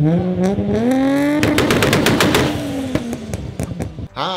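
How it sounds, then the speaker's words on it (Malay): A loud, aftermarket car exhaust revs hard, rising in pitch before breaking into a rapid crackling, popping burble that sputters out at the end, close up with no talk. "Tapi macam tak haram adalah jeng-jeng-jeng exhaust bising."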